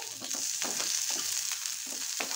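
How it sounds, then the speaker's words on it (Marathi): Two small onions sautéing in a spoonful of oil for a dry small-prawn curry, a steady close sizzle with soft periodic stirring scrapes, no talk. "ह्या तेलामध्ये आधी आपण हा कांदा परतून घेऊया."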